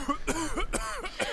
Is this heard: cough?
yes